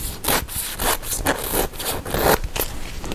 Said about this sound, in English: Now all I have to do is trim that seam right around the edge.